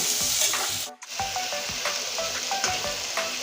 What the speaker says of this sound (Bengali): ওটা এখন সুন্দর করে কষিয়ে নেব